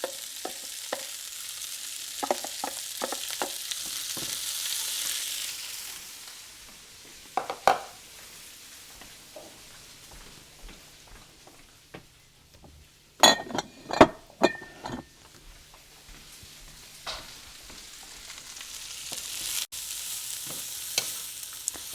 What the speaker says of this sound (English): That broccoli just gets so pretty and bright when it's in the middle of being stir-fried.